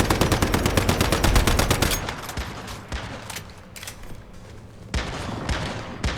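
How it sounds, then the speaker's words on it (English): Rapid automatic gunfire from the video game Pumperkin, pouring shots into a voodoo doll: a dense, loud burst of evenly spaced shots for about two seconds, then scattered sharper shots and bursts over a noisy game background. "We're just gonna be dumping ammo into this voodoo doll thing."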